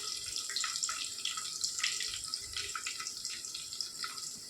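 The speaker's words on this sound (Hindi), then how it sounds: "ये देखिए हम यहाँ पे पानी ऐड कर देंगे।" Water pours from a jug into a pot of chole in a splashy, fluttering stream, with bright gurgling bursts and uneven spatter throughout, close up and with no one talking.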